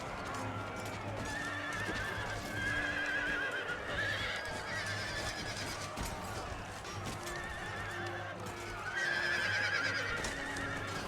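Horses in a Total War: Empire battle whinny repeatedly over rapid clip-clopping hooves, with recurring shrill neighs across a busy, moderately loud battlefield mix.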